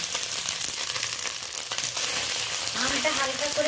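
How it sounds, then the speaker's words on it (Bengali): Green mango pieces sizzle softly in a pan with ginger paste, a steady light frying crackle with faint stirring, quieter toward the end. "আমটা হালকা করে ভাজা হয়ে গেছে"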